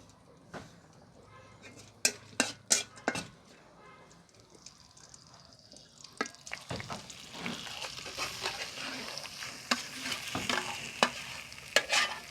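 Chickpea halwa cooks in a pot on a cement stove: sharp knocks and clatter at first, then a building sizzle with stirring scrapes, some brief voice-like sounds in the background.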